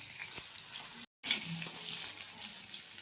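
Ash gourd leaf fritters frying in hot oil, a steady, fairly quiet hiss and crackle with a brief dropout partway through, no voices over it.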